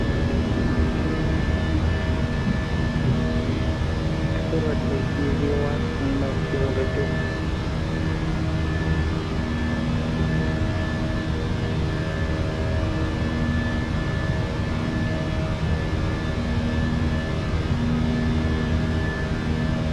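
Airliner engines drone steadily and loudly as the plane climbs after takeoff in Microsoft Flight Simulator 2024, a constant rumbling roar with faint tonal whine throughout and no voices.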